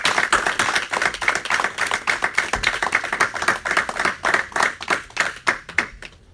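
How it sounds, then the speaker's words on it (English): A room of people at a Youth Sunday gathering claps for the speakers, dense rhythmic handclaps fairly close, sustained throughout and thinning toward the end. "Let's give them another round of applause."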